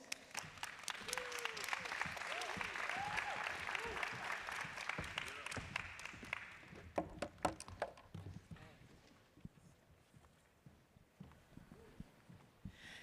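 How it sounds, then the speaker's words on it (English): Audience applause at a climate finance plenary session, a brisk burst of clapping that fades after about six seconds into a few scattered claps, with faint voices and whoops mixed in. "An applause, please."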